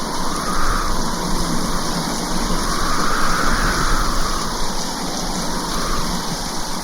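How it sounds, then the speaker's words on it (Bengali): A sudden violent storm rushes in a cartoon, a loud dense roar of wind and pouring rain that holds steady and unbroken throughout, with slow swells rising and falling underneath. "হঠাৎ প্রচন্ড ঝড় শুরু হলো।"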